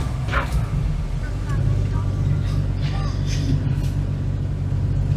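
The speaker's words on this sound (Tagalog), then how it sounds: "Nahirapan yung sasakyan natin." A vehicle engine labours with a heavy, steady low rumble on a steep mountain road in the cold Cordillera highlands of the Philippines, continuous throughout and close, with people talking over it.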